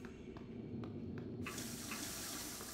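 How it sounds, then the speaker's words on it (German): A tap in the video game Prey runs as water is drunk from it, starting with faint clicks and then a steady, close rush of flowing water that continues to the end, with no talking over it. "Wieder Wasser trinken."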